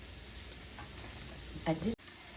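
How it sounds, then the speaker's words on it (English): Dry ground spice powder frying in olive oil for a bottle gourd stew, a soft steady sizzle with stirring scrapes and a brief louder clatter near the end, heard alone without talk. "So this way we are cooking it in that olive oil."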